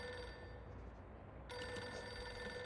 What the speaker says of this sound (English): The assistant buried in paperwork failed to react to the ring.